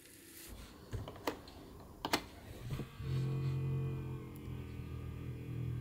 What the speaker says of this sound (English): During the cleaning cycle, the drum filters the clean litter into a temporary storage area through this filter.